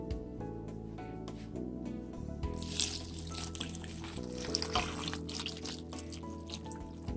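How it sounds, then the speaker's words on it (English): Water poured from a container into a cooking pan holding suman cassava (kamoteng kahoy) for boiling, a continuous splashing stream with dripping, heard close over music. "now my mom's gonna put water."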